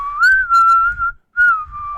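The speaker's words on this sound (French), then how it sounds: "On a entendu un vague sifflement là." A person whistles two sustained, nearly steady notes in a French tabletop role-playing session, the first running about a second, then a short gap before the second, with faint low rumble underneath.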